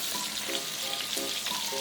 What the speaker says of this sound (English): Just gonna saute them a bit because they're gonna be cooked down.